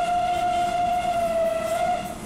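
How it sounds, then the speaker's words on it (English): A train in the Transport Fever video game rolls past with a steady whistle-like horn tone, loud and continuous for about two seconds over a low rumbling rail noise. "And we've got a new train out."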